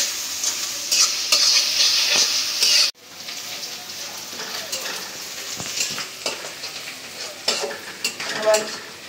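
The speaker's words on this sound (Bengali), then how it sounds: "পেঁয়াজ রসুনটা ভাজা হয়ে গেছে" Onion and garlic fry loudly in a hot pan, crackling with a steady sizzle while a utensil stirs and scrapes through them in repeated strokes. There is a brief sharp drop partway through.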